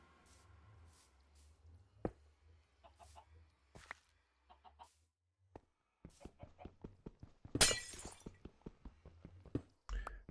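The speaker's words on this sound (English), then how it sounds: "So I guess the glass noise for the portal is a different file. That was loud compared to breaking glass." A Minecraft nether portal shatters with a loud, bright glass-breaking crash partway through. It stands out from the quieter, scattered block and footstep clicks around it, and a second sharp break comes near the end.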